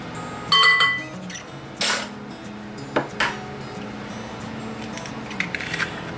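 Egg and vanilla go into creamed sugar in a mixing bowl, heard as a few close clinks and knocks against the bowl separated by quiet gaps, with no talking.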